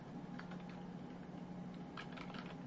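Soft clicking of computer keyboard keys being typed at a desk, in a few short irregular bursts against a steady background hum.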